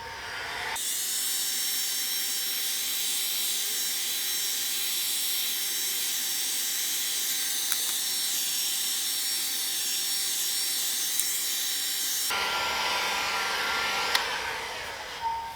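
A heat gun blows hot air onto a loose, floppy vinyl car wrap to reset it: a steady, loud, unbroken hiss that runs for about twelve seconds and then cuts off.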